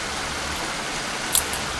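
Steady rainfall in the Trainz railway video game, an even, continuous hiss with one brief faint tap near the end and no talking.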